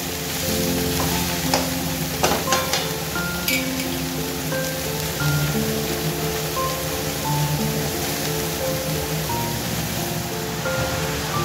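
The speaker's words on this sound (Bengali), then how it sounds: "এবারে ভালোভাবে নেড়ে চেড়ে আমি এবারে সব মশলাগুলো দিয়ে দেবো।" Bottle gourd with spices frying and being stirred in a pan for a vegetarian lau bahari: steady close sizzle with scraping utensil strokes and clinks throughout, no talk.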